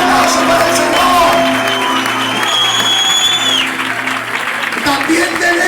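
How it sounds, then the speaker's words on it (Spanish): Loud applause with cheering fills a church congregation at an anniversary celebration, a dense steady roar of clapping close by, with whoops and background voices mixed in throughout. "Fuertes aplausos para el Señor."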